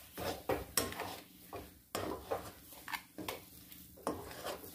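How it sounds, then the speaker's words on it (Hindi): Laddoo mixture with cardamom powder is stirred in a pan, giving rhythmic rubbing and scraping strokes of utensil against metal. The strokes are close and fairly quiet, with short gaps between them. "अब इसे अच्छी तरह से मिक्स कर लूंगी।"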